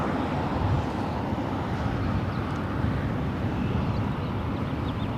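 Steady, loud broadband roar of a Delta airliner landing on runway 24 right at LAX, arriving from Seattle, with a continuous engine and wind rumble filling the whole stretch without pause.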